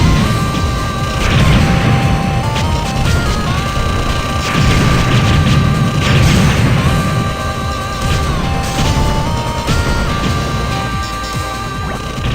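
Tanks blow up in the Truxton 2 arcade shooter, with loud crashing explosions and booms repeating over a steady, busy game soundtrack of chiming tones.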